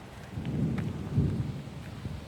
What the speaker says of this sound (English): It's lightning and thundering here.